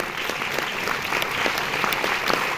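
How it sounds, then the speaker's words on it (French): Continuous audience applause in a screening room for the Films du Losange 60th anniversary retrospective, dense and steady throughout the short stretch with no talk over it. "vous pouvez les applaudir"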